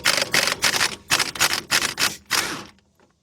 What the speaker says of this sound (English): I can just go ahead and get my 1/2-inch drive gun, and we're gonna take that bolt out